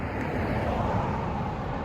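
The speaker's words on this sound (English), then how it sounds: "Excuse the noise. I got cars going through." Steady broadband rumble of road traffic rolling past on a street, a continuous wash of tire and engine noise with no clear gaps, fairly close and constant throughout.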